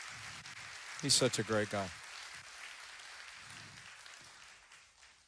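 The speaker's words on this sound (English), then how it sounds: "give him another round of applause before he slips out" A political rally crowd claps for a departing guest. The applause runs as a steady wash under a short burst of speech and slowly fades over the last seconds.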